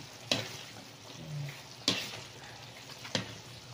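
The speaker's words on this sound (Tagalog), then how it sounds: "Cooking latik" Latik cooks in a pan, coconut milk and brown sugar frying with a soft steady sizzle, broken by three sharp scraping stirs spaced about a second or more apart.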